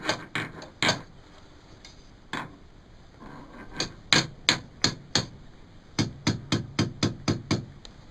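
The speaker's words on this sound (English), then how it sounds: "Grab our hammer and just bring that curl on around." A blacksmith's hammer rings on heated steel, bending a curl at the end of an S hook, with sharp metallic strikes, a few scattered blows at first and then quick rhythmic runs of hits.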